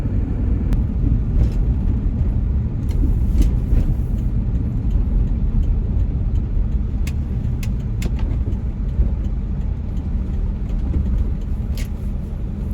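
An old Power Stroke diesel truck with about 350,000 miles cruises down the road, a steady deep low rumble of engine and road noise from inside the cab, with occasional faint clicks and no talking.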